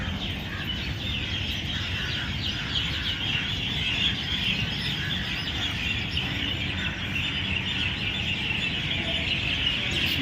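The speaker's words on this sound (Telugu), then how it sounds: "ఆ పక్షుల కిలకిలను ఒకసారి వినండి" Many birds chirp and twitter in a dense, continuous chorus at the large dargah in Kadapa, a busy wash of calls with a faint low background rumble.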